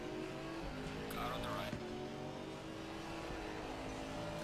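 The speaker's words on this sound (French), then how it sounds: "Un beau petit son de moteur sur l'Audi." Audi GT4 race car in Assetto Corsa Competizione at Silverstone, its engine droning steadily with layered harmonics through a packed racing moment, a brief squeal-like burst near the middle, and a voice talking over the continuous engine noise.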